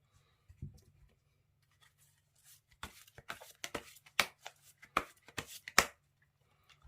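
Tarot cards are shuffled and drawn close by, with soft scattered taps giving way to a run of crisp papery flicks and slaps, quiet overall.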